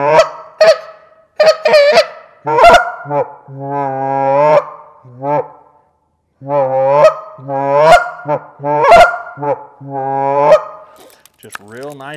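Canada goose calls from a goose caller, a run of loud, close honks and clucks in bursts with brief pauses, some drawn out, others quick and choppy.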